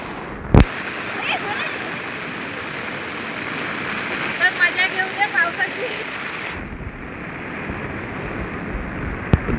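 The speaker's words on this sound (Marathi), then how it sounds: "तर ही नदी आहे आणि साईटून पण पाणी येतोय." A swollen river rushes during heavy monsoon rain in the Konkan hills, a loud broad roar of flowing water filling the scene, with a few brief louder splashes and knocks.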